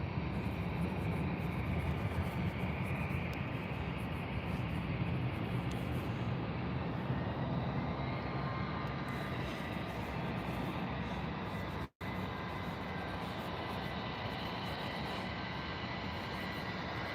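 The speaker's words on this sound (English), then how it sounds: "First arrival of the live, and EasyJet straight in." An EasyJet Airbus A320 arriving at Birmingham Airport on an early morning, its engines a steady broadband roar that fills the whole stretch with hardly any change, one brief dropout partway through, no voices.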